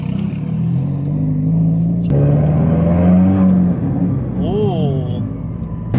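Subaru WRX with a new, larger-diameter exhaust accelerating, a steady engine drone that climbs in pitch, close and fairly loud, while a person reacts briefly over it.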